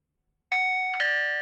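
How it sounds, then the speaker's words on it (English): A doorbell in the video game Robotics;Notes DaSH chimes a clear two-tone ding-dong, loud and close, with no other sound around it. "I try ringing the doorbell."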